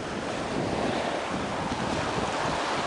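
Surf waves washing steadily onto East Beach at sunset, a continuous broadband roar with wind buffeting the microphone throughout and no voices.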